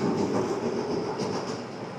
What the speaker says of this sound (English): there goes another empty train